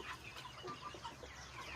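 Chickens cluck in a short burst of soft, broken calls over steady background noise, with no voices.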